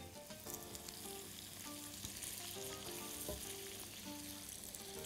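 Vermicelli toasts in a dry pan with no fat, giving a steady, close crackling sizzle that runs evenly throughout with no one speaking.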